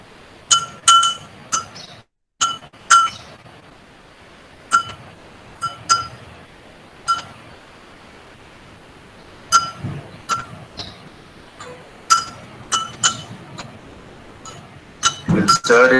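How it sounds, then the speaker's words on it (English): A spoon stirs salt into a glass of water, striking the glass in bright, ringing clinks that come in quick clusters separated by quieter pauses, with a voice speaking now and then. "We'll stir it till the salt fully dissolves."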